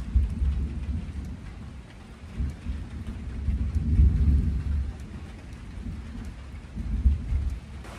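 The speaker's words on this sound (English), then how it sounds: "We're gonna have a thunderstorm any second now." A summer thunderstorm on a homestead during a heat wave: steady pouring rain hisses throughout while deep thunder rumbles swell and fade in several rolling waves, with no voices.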